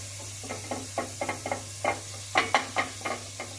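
Flour and paprika go into melted butter in a pan, producing a soft sizzle broken by a rhythmic series of light scraping and tapping strokes from stirring, fairly quiet over a steady background hum.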